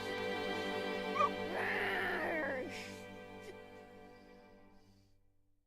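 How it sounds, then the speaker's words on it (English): A dog in the video game Final Fantasy XVI gives a soft, whining whimper with a brief yip amid the game's sustained musical score, fading toward the end. "They named the dog Bahamut"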